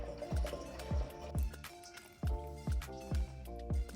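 Motor oil draining from a Toyota Supra MK5 engine in a garage, heard as a steady series of close, regular drips and small splashes into a pan, with a brief pause midway.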